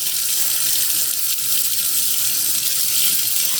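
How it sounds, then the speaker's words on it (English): Water runs steadily from a tap, a constant close rushing stream, while algae is scrubbed off aquarium stonework for a frog tank, with no voices. "scrub the algae off as much as I can on all of the stonework pieces"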